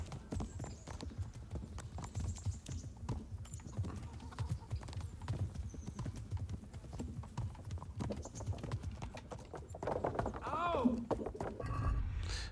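Rhythmic clip-clop of horse hooves trotting in the video game Kingdom Come: Deliverance, with a horse whinnying near the end and someone talking over it.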